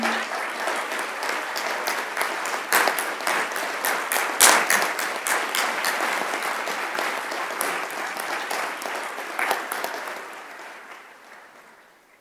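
Convocation audience applauding graduates in a large hall, a dense, steady roar of clapping from many hands that holds for about twelve seconds and then gradually fades.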